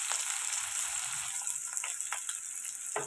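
Chopped onions frying in a pan for a restaurant-style chicken fry, a steady close hiss and crackle of oil with small pops throughout, no talking.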